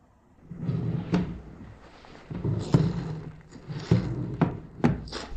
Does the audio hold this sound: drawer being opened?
yes